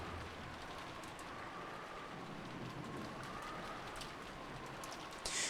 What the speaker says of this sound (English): there was no reply, only the howl of the wind and rain